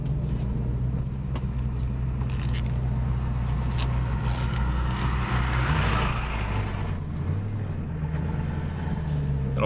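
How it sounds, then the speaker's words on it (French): A red 1966 Ford Mustang coupe runs smoothly while driving, its engine giving a steady, even low rumble throughout, with a slight rise in revs partway through. "Et le moteur tourne vraiment rond, il est vraiment régulier."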